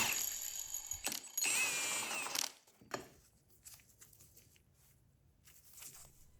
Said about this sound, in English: Then I carefully remove the clutch with an impact.